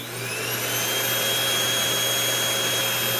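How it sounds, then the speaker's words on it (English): An upright vacuum cleaner drawing about 250 watts runs steadily off an Egretech Plume 300 portable power station, a loud, constant motor whine with a high-pitched tonal hum that holds without a break. "And we're gonna start the upright vacuum first."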